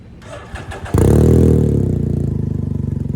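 A Can-Am Ryker with an RLS carbon series exhaust, all baffles installed, cranks over with a few starter whirs, then catches with a sudden loud bark. It settles into a close, steady, throbbing idle.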